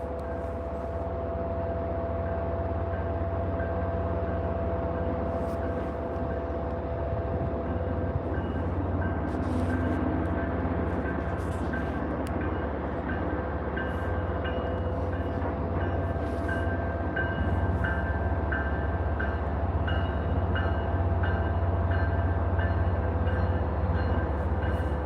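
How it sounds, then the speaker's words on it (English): A train rolls into Boston's South Station, a long steady rumble with sustained tonal squeal and hum, occasional clanks and hisses over the continuous rolling noise. "you have a train from far away entering the station"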